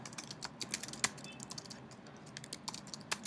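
Data is typed into an Excel spreadsheet on a computer keyboard, with quick irregular key clicks and occasional louder taps, close and fairly quiet.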